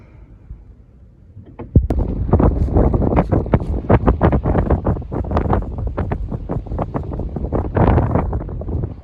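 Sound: strong wind

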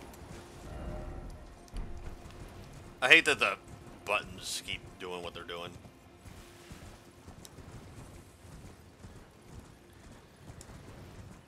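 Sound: horse galloping in video game Elden Ring

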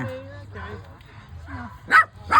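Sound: dogs barking to welcome guests

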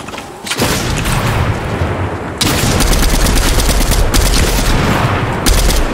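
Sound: shotgun gunfire in Fortnite video game

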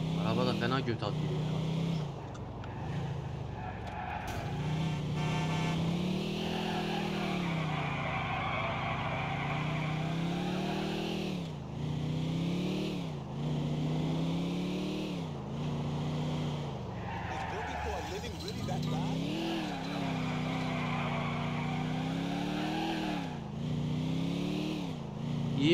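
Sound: car fishtailing and skidding while driving in GTA 4 video game

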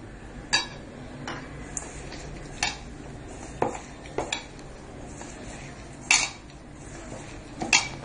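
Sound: stirring sesame cookie dough in a heated pan with milk

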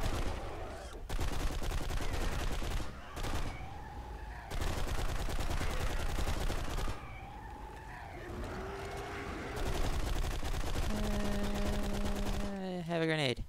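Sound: explosions and gunfire in a video game

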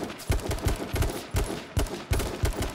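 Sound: gunshots in the video game H1Z1

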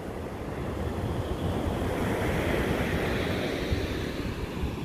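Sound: waves and wind on a beach at Sea Bright, New Jersey

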